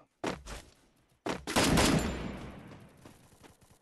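Gunfire in a battle royale video game: two short bursts of shots, then a louder, sustained volley of rapid fire that slowly fades and echoes out.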